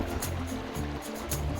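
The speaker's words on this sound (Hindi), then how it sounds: "पानी आ रहा है, बहुत लंबा से आ रहा है।" The Jamui river in Bihar, roughly 20 to 25 feet wide, flows past in a steady, broad rush of water with a few soft splashy swells, heard up close with no voices.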